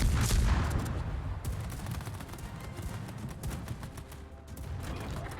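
A US tier 9 destroyer, the USS Johnston, fires its guns in World of Warships: a rapid cluster of loud booming shots opens the clip, then a rattling stream of quicker, fainter reports follows against a low rumbling background.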